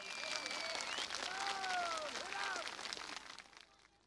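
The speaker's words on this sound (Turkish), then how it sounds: "Isparta'nın elmasına, elmasının çilekeş üreticilerine bir yürekten alkış yapalım." A political rally crowd in Isparta applauds the region's apple growers, a fairly faint wash of clapping with whistles and voices rising over it, fading away toward the end.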